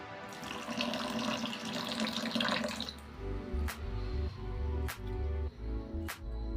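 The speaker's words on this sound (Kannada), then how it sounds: "ನಾನು ಒಂದು ಲೋಟದಷ್ಟು ನೀರು ಹಾಕೋತೀನಿ" Water is poured into jackfruit dosa batter, running steadily for about three seconds, then stops, leaving a few sharp clinks and thuds against a low rhythmic background.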